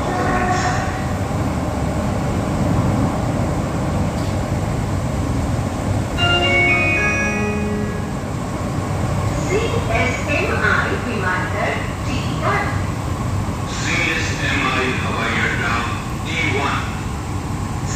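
A Mumbai Aqua Line metro train of about eight cars runs along underground, a steady rumbling roll with rising and falling whines and brief squeals, while someone talks over it.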